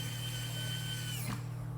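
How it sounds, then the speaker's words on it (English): Small power screwdriver driving screws on a Dell Inspiron 3505 laptop battery, a steady whirring motor hum that holds for most of the clip and then cuts off abruptly near the end, close and alone. "I just let the drill or let the screwdriver just twist in my fingers and pop off of the screws"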